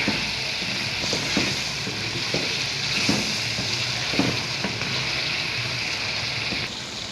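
Tomatoes and salt frying in a pot for a bhindi and chicken curry, a steady loud sizzle with occasional stirring scrapes throughout, no talking.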